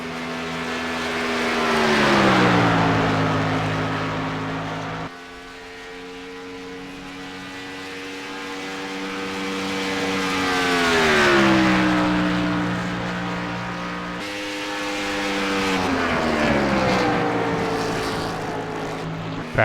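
Toyota Camry race car engines in iRacing at Michigan, loud and harmonic, surging up and falling away in three separate passes as cars scream by, each rising in pitch then dropping off.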